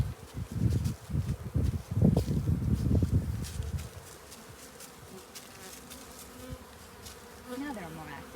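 Honeybees buzzing loudly and close around an open hive for about four seconds, then thinning to a fainter hum with light rustling.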